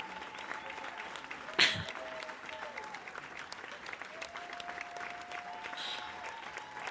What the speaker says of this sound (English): there's applause, they're clapping for me